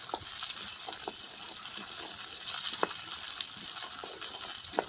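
Peas roasting in a pan for a veg sandwich filling give a steady, fairly loud sizzle, with small crackles and pops scattered across it.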